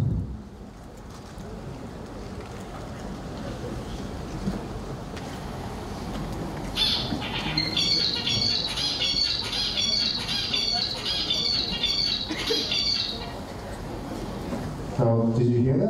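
A bird sings a repeated, high-pitched series of notes for several seconds over steady background wind and water noise.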